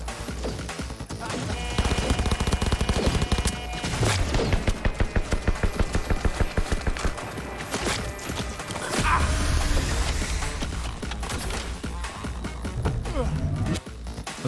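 Cyberpunk 2077 turret gunfire, a long, rapid automatic stream of evenly spaced shots hammering for several seconds, framed by other impacts and crashes, with a player talking over the fight.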